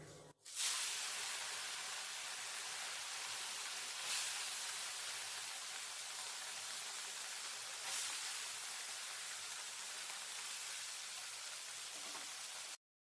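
Small chela fish drop into hot oil and set off a loud, sudden burst of broad hissing sizzle. It holds steady for about twelve seconds with a couple of brief surges, then stops abruptly.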